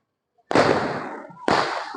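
Firecrackers burst twice in the open during a Diwali celebration in a Mumbai housing society, each a sharp loud crack with a crackling, fizzing tail.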